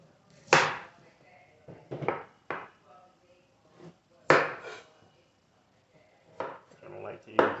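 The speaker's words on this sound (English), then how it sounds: "Fresh beetroot that we're going to cut" A knife chopping fresh beetroot on a cutting board, several sharp separate cuts with quiet gaps between them, close and clear.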